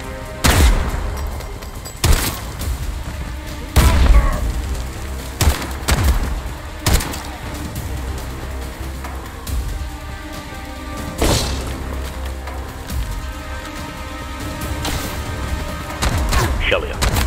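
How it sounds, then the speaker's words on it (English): Artillery barrage from the video game Bright Memory Infinite: repeated loud booming blasts and thuds burst at irregular intervals over a continuous low rumble, some close and heavy, others duller, with speech-like game audio mixed in. "But this barrage is too dangerous."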